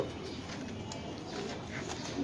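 Soft, low pigeon cooing murmurs through a steady background hum, with a few faint chirps scattered on top; no one speaks.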